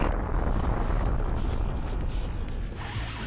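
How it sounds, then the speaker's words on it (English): A loud, sustained explosion rumble from the Jak and Daxter video game, a dense low-heavy roar with a small zoomer vehicle involved, holding steady for several seconds before easing off slightly at the end. "for a tiny zoomer, that is a loud explosion"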